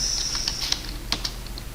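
Rapid keystrokes clatter on a computer keyboard while configuring a DHCP server on Debian 10, a close run of crisp, irregular clicks with a few louder taps near the end.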